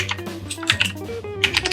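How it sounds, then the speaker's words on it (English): Quick bursts of typing on a computer keyboard, a run of close, crisp key clicks with short pauses, entering a line of text in AutoCAD with no talk over it. "now I will just type a quick sentence"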